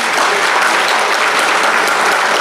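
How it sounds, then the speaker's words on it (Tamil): An audience at a book festival claps together in praise of children, a loud, dense burst of applause close by that holds steady for a couple of seconds. "அந்த பிள்ளைகளுக்கெல்லாம் ஒட்டு மொத்தமாக ஒரு கைத்தட்டல் கொடுங்களேன்"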